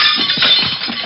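A lamp breaking as a radio drama sound effect, a short, bright crash of shattering glass with clinking pieces that lasts about a second, close and alone.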